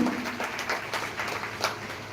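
An audience at a 15 August Independence Day gathering applauds children in new uniforms, a dense, steady wash of clapping from a crowd that holds for a couple of seconds.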